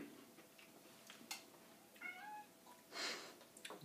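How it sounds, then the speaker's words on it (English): A cat meows a few times at moderate distance, short rising calls over soft room noise with a couple of small clicks and bumps. "try to keep the cat noises to a minimum over there."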